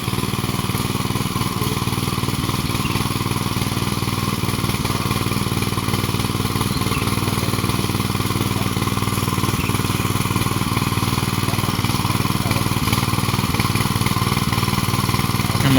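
A farm machine's engine runs steadily in a field, a continuous droning mid-pitched motor note at constant loud level with no pauses throughout.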